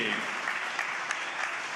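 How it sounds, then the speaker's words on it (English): A crowd at a Wednesday night professional boxing event applauds both fighters after the bout, with sustained, even clapping that holds steady throughout and no audible speech. "Big round of applause for both fighters."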